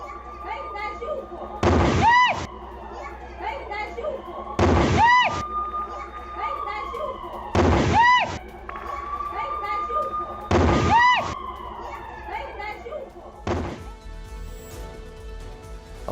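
Heavy explosions from an Israeli military attack with a Merkava tank in Rafah, southern Gaza, boom four times at regular intervals, each loud blast followed by a long rumbling decay, with a crackling burst at the end.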